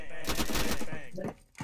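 AK rifle fire in a zombie shooter video game rattles out as a dense burst of rapid shots, loud and close, then cuts off abruptly with one more shot near the end.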